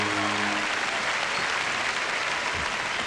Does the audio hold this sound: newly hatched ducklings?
no